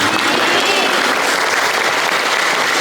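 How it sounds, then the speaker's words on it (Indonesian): A church audience gives a sustained round of dense, even applause at an Indonesian Valentine's service, steady and fairly loud throughout. "Kita berikan tepuk tangan"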